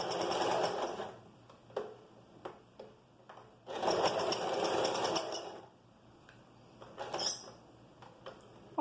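A sewing machine stitches along the bias edge of a flared skirt in a loud burst, pauses, then a second long run, with short stops and brief mechanical clicks between.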